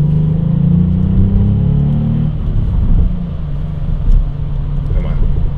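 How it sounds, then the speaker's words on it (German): A VW up! GTI's three-cylinder turbo engine gives a loud, close, steady low rumble with a slight throaty drone, easing off partway through, heard from inside the car. "Hör mal, 3-Zylinder-Turbo."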